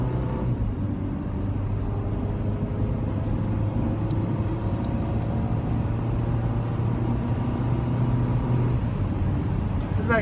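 Cabin drone of a 2000 Honda Civic with a 1.7 L inline-four, accelerating up a steep incline: a steady low engine hum with slowly rising tone under road rumble, with a few faint clicks.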